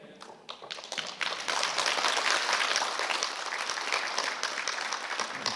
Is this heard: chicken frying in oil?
no